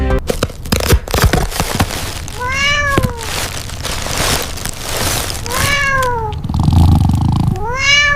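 A cat meows repeatedly, the cries spaced a few seconds apart with rising-falling tones, heard close over a busy crackling, rustling background with no talk.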